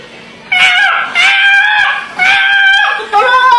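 A voice mimics a chicken caught in a fence with three loud, whiny squawking cries in a row, each pitched and wavering, separated by brief pauses.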